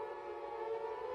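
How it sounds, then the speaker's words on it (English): An air raid siren in Ukraine drones in a steady, sustained tone, heard at a distance with no other sounds. "You have a siren going on in the background"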